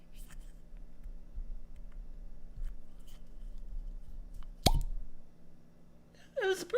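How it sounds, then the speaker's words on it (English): A cork pops once out of a Redbreast Irish whiskey bottle, a single sharp, close pop in a quiet room, followed shortly by a brief squeaky rubbing sound. "I want to get a good cork pop."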